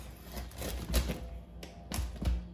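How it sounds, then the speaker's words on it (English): A knife saws through the crusty bottom of a Dutch oven loaf, giving a string of dry, crackling taps and crunches, close and fairly loud, about five or six distinct bursts over a couple of seconds. "Cut down the crusty bottom."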